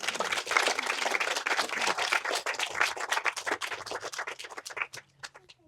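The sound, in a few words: audience applause for panel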